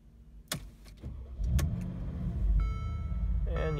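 A 2016 Mercedes-Benz G63 AMG engine cranks and catches after a few clicks, then settles into a loud, steady low rumble close by, with a faint chime near the end.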